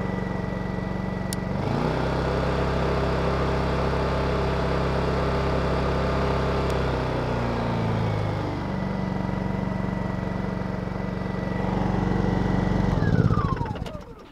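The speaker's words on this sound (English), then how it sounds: "that's the loudest this generator is going to get" A portable camping generator runs close by, its engine humming steadily, then revving up as eco mode is switched off, holding a higher, louder tone before dropping away near the end.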